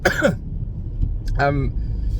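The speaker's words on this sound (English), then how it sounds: "And I've got a cough." One person gives a short, rough cough and throat clearing, close and loud, with a car's low rumble running underneath.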